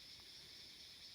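A steady, high-pitched insect drone of crickets in the jungle fills the air, constant and fairly faint, with no voices or other distinct sounds.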